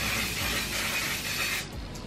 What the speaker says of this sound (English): I'm going to spray it all over my face